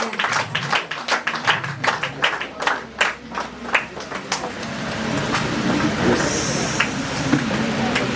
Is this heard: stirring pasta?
no